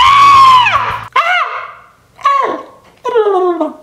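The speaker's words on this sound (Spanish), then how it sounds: "voy a poner mi voz y un gritote para que te lastime los oídos" A loud, piercing human scream opens with a long falling shriek, followed by three shorter strained yells separated by brief pauses, all close and harsh.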